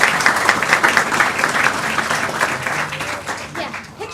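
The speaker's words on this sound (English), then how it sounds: "let's give this group a round of applause" Audience at a school board meeting gives a group of 5th graders a round of applause: dense, lively clapping throughout, tapering slightly toward the end.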